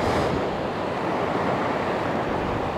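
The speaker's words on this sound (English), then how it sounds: "you can see by the waves, it's pretty rough" Rough sea surf breaks on Sunny Beach, Bulgaria, a loud continuous roar and wash of waves close to the shore, steady throughout without speech.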